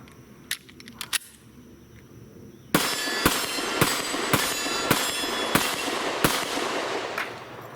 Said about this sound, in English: Definitely feel a little more muzzle blast than say a 40 cal seems like.